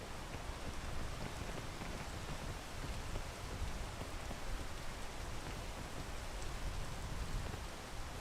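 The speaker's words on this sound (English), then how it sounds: "Wait for the rain to go past." Steady rain falling in the climbing video game PEAK, a dense, even hiss of drops pattering on surfaces with a faint breath of wind, continuous and unbroken throughout, with no voices.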